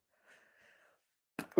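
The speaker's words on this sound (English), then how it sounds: "Sorry, had to sneeze." A single sharp human sneeze, close and abrupt, preceded by a quick intake of breath after a faint, quiet stretch.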